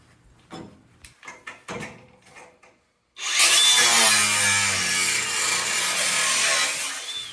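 A few scattered knocks and taps come first, then a power tool cuts into the bumper of a Series 3 Land Rover during chassis repairs, grinding loud and close without a break for several seconds.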